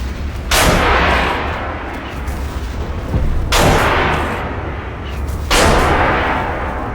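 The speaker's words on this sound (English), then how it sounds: "I love this gun with the heat rounds when he tears through them" Tank main gun firing HEAT rounds in the video game Armored Warfare, three loud booming shots spaced about three seconds apart, each with a long rumbling decay.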